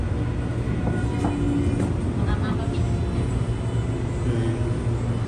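An Edmonton LRT train pulls into Stadium Station, a steady loud rumble and rolling hum of the railcar that holds constant throughout, with faint voices under it.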